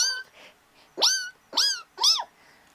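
A person imitates a kitten's meow with three rising-and-falling mews in a row, close and fairly loud, after a faint opening squeak.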